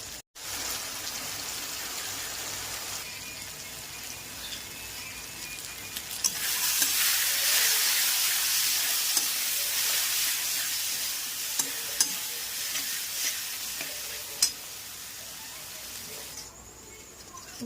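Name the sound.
spice paste frying in mutton fat, stirred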